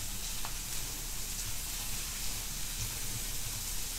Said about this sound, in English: So we're gonna fry this.